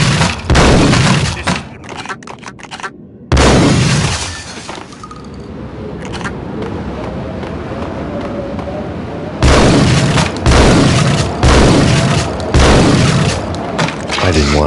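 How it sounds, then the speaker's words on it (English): A powerful explosion in the Max Payne video game: loud booming blasts with shattering glass and debris, a roaring stretch between, then further heavy bursts near the end. "I thought it was a bomb for sure."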